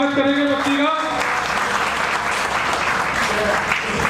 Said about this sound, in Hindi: जोरदार तालियों से स्वागत करेंगे बच्ची का।